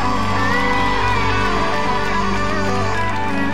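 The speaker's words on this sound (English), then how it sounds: "Y'all don't stop clapping." Church congregation clapping and cheering for a pastor, a loud, dense wall of crowd noise with whoops and shouts over organ or music tones, continuous throughout.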